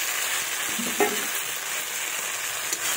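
Fried potatoes are stir-fried into a duck egg curry, a continuous close sizzle of hot oil with soft scraping stirs and a light knock partway through.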